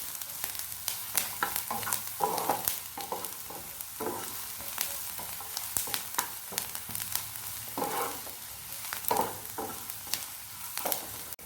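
Onions frying in a pan and being stirred, with steady sizzling broken by repeated scraping strokes of a spoon at an uneven rhythm, close and clear, with no talking.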